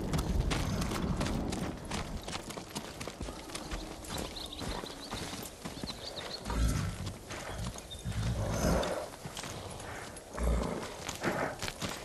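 A horse in the samurai video game Ghost of Tsushima clip-clops with irregular hoof thuds over a busy game soundscape, moving at a walking pace and fairly near, with some snorting.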